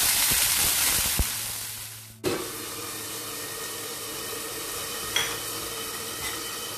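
Cumin seeds and potato pieces frying in hot oil in a pan, a steady sizzle with a sharp burst near the start as the potatoes hit the oil, then continuous crackling with occasional clinks.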